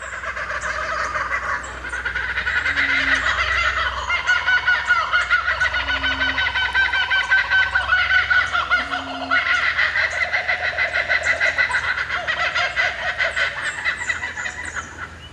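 Loud, continuous raucous cackling calls of laughing kookaburras rise and fall for a long stretch, several birds overlapping in a dense laughing chorus.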